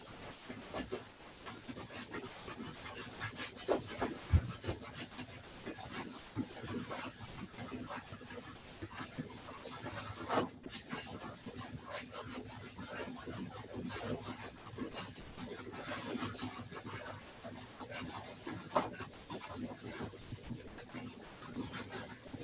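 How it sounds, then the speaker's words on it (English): Steady, soft rubbing of hands moving vigorously up and down and in circles over the knees during a tai chi flow, a continuous close friction hiss with no talking. "just move that kneecap around, rubbing vigorously up and down"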